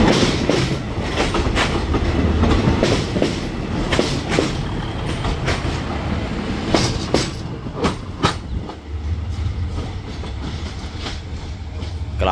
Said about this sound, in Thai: รถดีเซลรางนะครับ